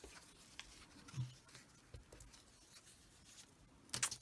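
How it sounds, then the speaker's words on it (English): Paper torn by hand for a mixed media collage, soft papery rustles and scratchy rips with a few small handling taps, close and quiet, ending in a brighter crinkle. "So I'm going to just tear that one up too"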